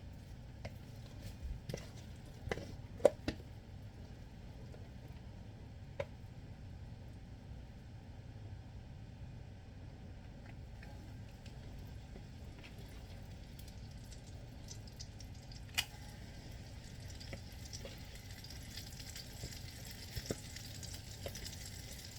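Apple fritters frying in a pan of oil, a faint, even bubbling hiss with a few sharp pops scattered early on and occasional soft crackles later.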